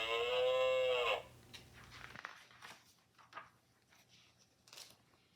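Wattle cows on a hillside ranch give a loud, drawn-out moo lasting about a second, then fall silent, leaving only faint rustling and soft scattered noises.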